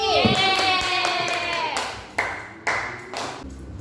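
A classroom of fifth-grade students claps briefly for a classmate after a ringing ping, a few sharp bursts of clapping with short pauses between.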